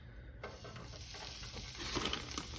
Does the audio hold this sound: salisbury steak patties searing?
yes